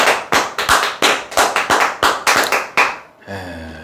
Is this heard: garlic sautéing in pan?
no